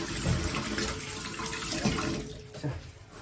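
Tap water runs steadily into a kitchen sink while green peppers are rinsed under it, with soft splashing and brief handling knocks, fairly close and continuous for a few seconds.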